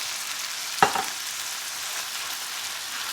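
Diced tomatoes and chilies are stirred into sausage frying in a pan, giving a steady soft sizzle. A single sharp clack of the spoon against the pan comes near the start.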